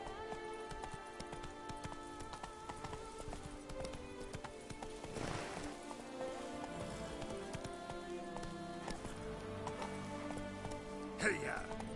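Horse hooves clip-clopping at a gallop in the video game The Witcher 3: Blood and Wine, a steady rhythmic beat set under a dense bed of game music and ambience, with a brief louder hit near the end.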